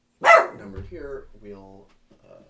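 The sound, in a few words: dogs barking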